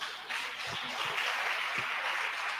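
A church congregation applauds during a Spanish-language service, many hands clapping in a steady, full wash that swells after a quieter start and holds evenly, with a few low thumps beneath.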